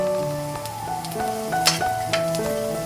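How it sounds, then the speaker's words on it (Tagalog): Garlic sautéing in hot oil in a home kitchen, a steady sizzle running throughout with occasional stirring scrapes, set against tonal music in the background. "Painitin lang ang mantika. Igisa ang bawang."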